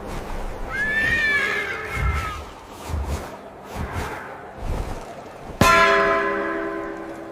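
AI-generated Western-style ambience with a horse whinnying and snorting near the start, soft hoof and movement sounds, then a single bright church bell strike ringing out and decaying near the end.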